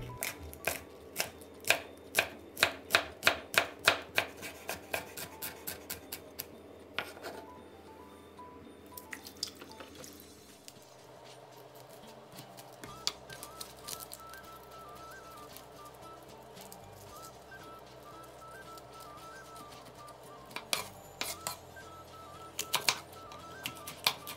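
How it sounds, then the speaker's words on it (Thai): A knife thinly slices banana blossom, with a fast, even run of crisp cuts for several seconds, then a lull, then slower, scattered cuts close up. "เดี๋ยวเราซอยหัวปีกันให้เสร็จเลยครับ"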